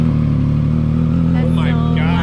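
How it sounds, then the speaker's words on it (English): A Triumph 765 motorcycle with a Toce exhaust and baffle rumbles loudly at idle after a cold start, a deep steady engine drone close by, with voices talking over it. "now we're gonna go ahead and do a cold start and some revs"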